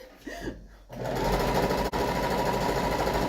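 After a short quiet start, a sewing machine whirs steadily and close, a dense continuous mechanical hum with one brief dip partway through.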